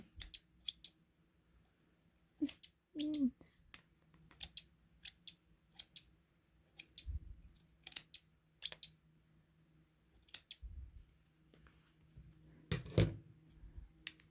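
Scissors trim a fluffed yarn pom pom for a knitted hat in a quiet room, giving many crisp close snips in short irregular bursts with brief pauses between.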